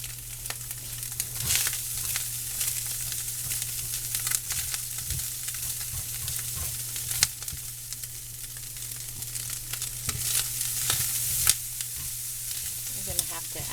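Eggs and green onion frying in a pan, a soft steady sizzle broken by sharp spatters and spatula scrapes, with a low hum in the background.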